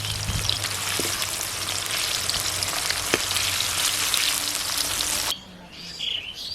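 Raw banana chips frying in hot oil give a steady, dense sizzle and crackle for about five seconds, then drop abruptly to a quieter hiss; faint bird chirps sit in the background and no one speaks.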